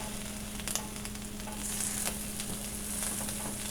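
Butter sizzling on a hot griddle, with a continuous close frying hiss and light crackling over a low steady hum.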